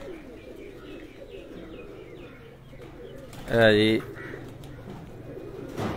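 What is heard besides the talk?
pigeons cooing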